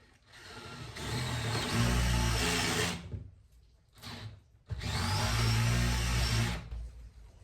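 A power drill cutting a countersink into a 17 mm wide piece of wood for a snake enclosure, two loud close whirring bursts of a few seconds each with a brief blip between them and no talking.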